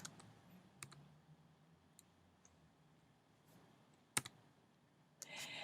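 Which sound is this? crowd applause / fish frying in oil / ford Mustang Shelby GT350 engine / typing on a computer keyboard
typing on a computer keyboard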